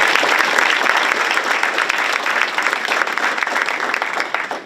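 Loud, dense applause from an audience at a school board meeting fills the room for a championship cheer team, a continuous wash of clapping that tapers slightly at the end.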